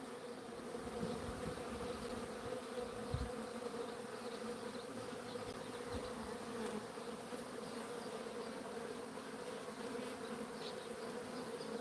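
Agitated bees swarm around a beehive, a dense continuous buzzing drone that stays fairly faint and even throughout, with no voices.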